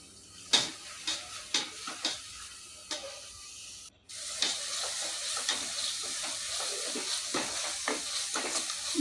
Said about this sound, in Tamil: நல்லா வந்து கீழே அடி பிடிக்காத மாதிரி நீங்கள் வந்து கிண்டி கிண்டி விடுங்க